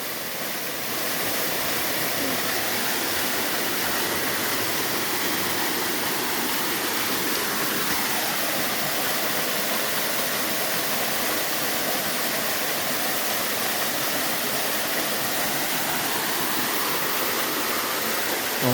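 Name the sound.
small waterfall on a trail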